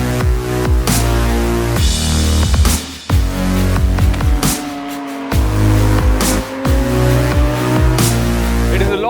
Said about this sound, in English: the Kawasaki Ninja ZX6R. This is the 600cc inline-4 Japanese dream